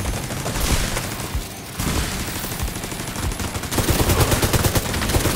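A deployed turret fires rapid automatic bursts in the video game The Division 2, with loud, dense rattling gunfire that pauses briefly and then resumes more intensely.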